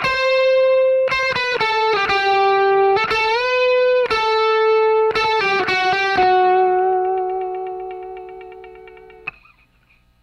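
A distorted electric guitar plays a lick, several sliding, bending notes in a halting phrase, ending on a long sustained note that slowly fades, close and alone.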